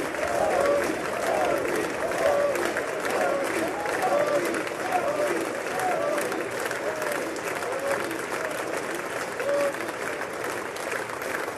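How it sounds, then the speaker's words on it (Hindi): A crowd at a Modi event claps steadily and continuously throughout, with faint voices mixed into the sustained applause, heard as a fairly distant recording. "बार बार वहां पे क्लैपिंग चल रही है"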